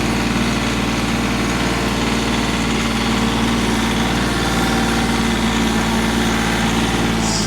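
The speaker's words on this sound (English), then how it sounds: "Spinning my wheels." A vehicle engine runs loud and steady at close range while its wheels spin during firewood work among cut trees, a constant low rumble with no pauses.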